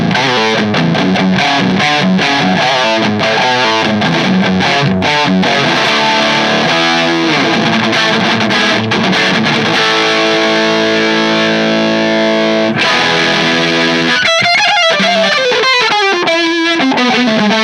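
Electric guitar played through an Electrosound Halo distortion pedal, a modded Distortion Plus, rings out loud and saturated with chords and single-note lines, ending in a bending lead phrase.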